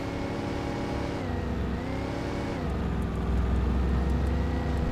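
A car engine revs while driving in the game Alan Wake Remastered, a steady loud drone that dips and climbs in pitch as the throttle changes and swells toward the end, with no voices over it.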